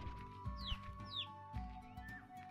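A hen clucks in short repeated bursts in the video game Slime Rancher, over a steady electronic hum, with faint chirpy tones in the background.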